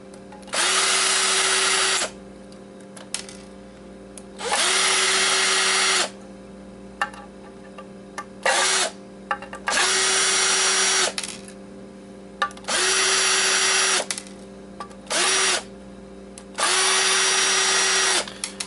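A power drill backs screws out of an Xbox hard drive casing, several loud whirring bursts of a few seconds each separated by short pauses and light handling clicks, close up, with no talking.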